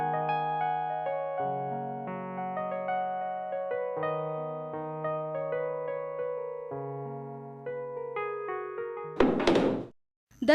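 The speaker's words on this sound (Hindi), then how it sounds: "दरवाजा किया बंद करे छिए अहाँ?" A door slams shut in a dramatic Maithili feature film scene: a single loud, sharp thud cuts in near the end of gentle melodic music, followed by a short moment of near silence.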